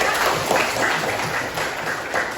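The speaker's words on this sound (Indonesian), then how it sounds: "kita beri tepuk tangan ya" A short burst of applause from a class of schoolchildren, scattered hand claps blending into a steady patter with faint voices in the background.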